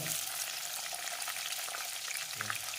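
Green chillies fry in a pan for beef chukka, a dense, even hiss of hot oil sizzling close up for a few seconds, with no voices.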